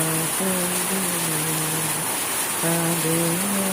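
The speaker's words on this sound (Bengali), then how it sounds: "বাহিরে প্রচুর বৃষ্টি হচ্ছে।" Heavy rain falls steadily outside on a morning in the city, a dense continuous hiss throughout, while a sustained tonal hum or voice-like tone drifts underneath.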